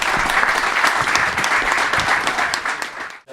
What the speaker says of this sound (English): Massive round of applause, thank you.